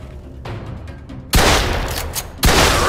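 Heavy gunfire in a Mafia 2 shootout: a faint, scattered background, then a loud burst of rapid shots, then a second close, booming volley.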